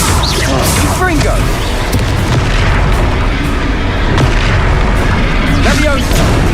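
Booming blasts from the Confringo fire spell in the Hogwarts Legacy video game burst repeatedly over dense, loud battle noise, with a voice calling out spells.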